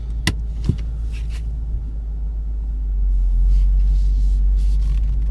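A manual car pulls away as the clutch is released with no gas applied: low engine rumble that swells and steadies after a few seconds, preceded by a couple of sharp clicks and knocks inside the cabin.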